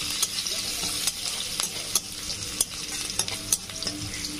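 Chopped onions fry in hot oil with cumin seeds, a constant sizzle broken by regular scraping stirs of a spoon in the pan, close and clear with no talking.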